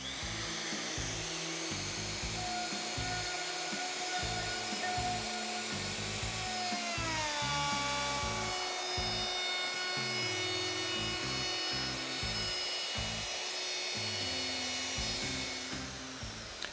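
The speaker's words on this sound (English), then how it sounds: "I'm ready to start routing." Router cutting a dado in cabinet wood for a mudroom build, a continuous high whine with a shifting pitch as the bit loads and frees, steady and close throughout with no voices.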